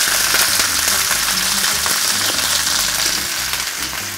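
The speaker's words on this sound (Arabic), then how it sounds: "هذا نحمره كله، بعدين نضيف باقي المواد" Loud, continuous sizzling of meat being browned in a hot pan in a home kitchen, a dense crackling hiss with occasional louder pops and a low undertone of the pan, no voices.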